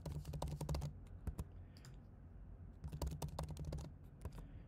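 Someone types a password on a computer keyboard in two quick bursts of close, crisp key clicks separated by a brief pause.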